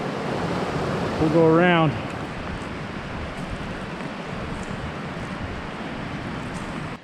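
A creek in full spate roars steadily along a trail near a waterfall, a loud continuous broadband rush that fills the whole scene, with a brief spoken phrase over it near the start.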